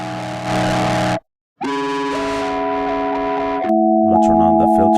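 A KiTiK free VST synth plays buzzing sustained chords with its distortion effect on, loud and close. The sound cuts out briefly, returns with shifting harmonics and ends in choppy stuttering tones.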